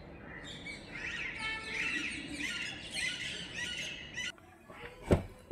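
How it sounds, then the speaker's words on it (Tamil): Dense, overlapping squawks and shrill chirps from a flock of parrots in a large peepal tree in the morning in Delhi, steady and fairly distant, with a louder close call near the end. "கிளிலாம் காலையிலே வந்து சத்தம் போட்டுக்கிட்டு இருக்கு."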